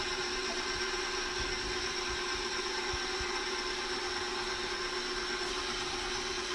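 Mango custard pie filling being mixed smooth with an electric mixer, a steady loud motor whir with a constant tone that runs unbroken throughout, no voices.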